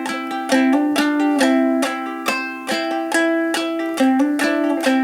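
Ukulele played in a brushed, bouncy clawhammer pattern, strummed chords alternating with thumb-plucked notes in a steady rhythm, close and clear, no voices.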